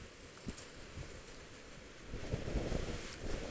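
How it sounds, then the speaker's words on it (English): Waves breaking at high tide along a Long Island Sound shore by a rock, a soft continuous wash mixed with wind buffeting the microphone, swelling slightly toward the end. "And you can see the waves kicking up there."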